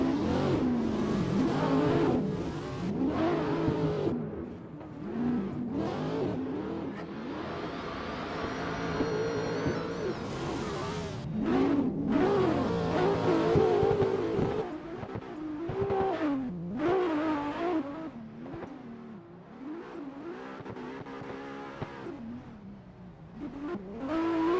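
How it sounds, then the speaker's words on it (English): ADL/VDC competition cars doing practice runs at the ACDFR Okuibuki circuit: engines rise and fall repeatedly as cars rev and pass at varying distances, with occasional tire squeal, continuous loud motor noise throughout. "allow you guys to get some raw audio of the cars while they're doing their practice runs"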